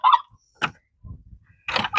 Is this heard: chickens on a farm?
yes